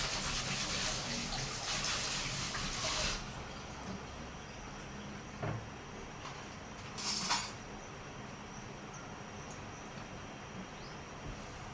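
Hands washed under a running kitchen tap: a steady close hiss of flowing water for about three seconds, then a quieter lingering wash with a couple of brief splashy bursts.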